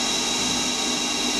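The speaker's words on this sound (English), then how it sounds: "That's a coated CNC stub drill." A CNC lathe drilling aluminium with a coated stub drill gives a steady, loud machining whir with a high whine running without a break, no voices.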